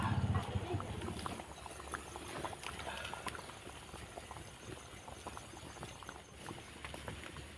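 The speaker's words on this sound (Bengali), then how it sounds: "এবার আমি তেলের মধ্যে ছেড়ে দেব আর তেলটাকে মিডিয়াম গরমে ছাড়তে হবে" Pua pitha dough balls frying in medium-hot oil, a continuous soft crackling and bubbling sizzle with scattered pops, close but fairly quiet and steady throughout.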